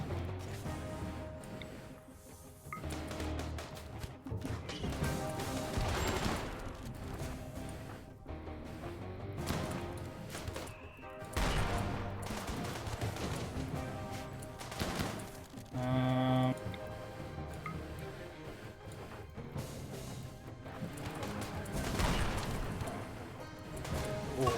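Gunfire in a video game battle, with repeated bursts and scattered shots crackling loudly over busy game noise and music, continuing throughout without a pause.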